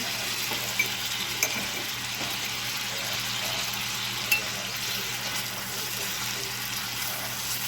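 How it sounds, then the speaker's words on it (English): Butter being stirred into a browning Jamaican black rum cake mixture, giving a continuous soft sizzle and scraping with a few light clicks of the utensil, close and steady. "Then we get to stir the butter in. Nice and brown."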